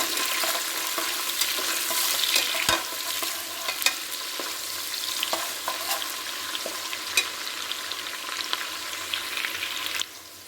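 Onions sizzle and fry steadily in a pan for mushroom biryani, a dense, even crackle with occasional sharper pops and stirring scrapes, close and continuous until it drops away at the end.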